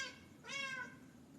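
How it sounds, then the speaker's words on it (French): A pet cat meows once, a clear rising-and-falling call in the middle of a quiet room with faint background hiss. "ça c'est mon chat"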